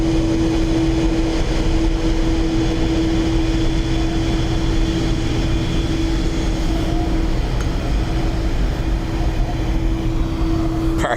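An airplane at Dublin Airport, heard as a loud, sustained engine roar with a steady tonal hum, holding fairly even across the whole stretch with no talk.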